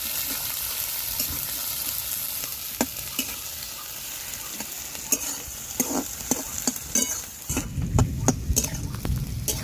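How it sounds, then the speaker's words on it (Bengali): Onions and green chilies fry in hot oil with five-spice seeds and bay leaf for a kofta dish, giving a steady loud sizzle broken by scraping stirs and clinks of a spatula. "পেঁয়াজ কাঁচা লঙ্কা এগুলো ভেজে নিয়েছি"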